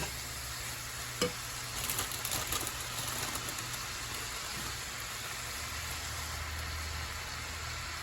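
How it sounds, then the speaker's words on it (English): Fresh spinach wilting in a hot pan, giving a soft, steady sizzle with a few brief scraping stirs near the start, fairly quiet and with no voices. "While the spinach is cooking down"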